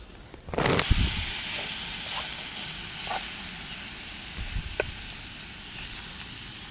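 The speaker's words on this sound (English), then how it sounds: "I'm really liking this low and wide gas stove" A low, wide gas camping stove burner in the woods hisses steadily and close, a constant broadband rush that starts abruptly and holds, with a few faint clicks and knocks over it.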